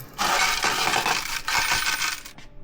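A coin drops into the coin box of a commercial laundromat dryer, rattling and clinking down inside the metal box for a couple of seconds, close and clear.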